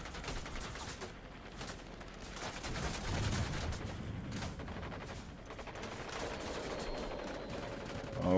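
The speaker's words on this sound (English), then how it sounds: "I have two bombs, and so I'm going to take out both of these medium targets" A warplane in World of Warplanes strikes base targets while rattling gunfire and muffled blasts crackle continuously at a moderate, distant-sounding level, with no voices.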